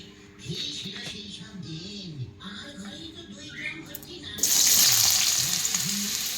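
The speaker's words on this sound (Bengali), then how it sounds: "লাউগুলো আমি ভালো করে ভেজে নেব।" Someone talks over a soft background sizzle, then chopped bottle gourd drops into a wok of hot oil with dried chili, bay leaf and cumin, bursting into a loud, steady frying hiss.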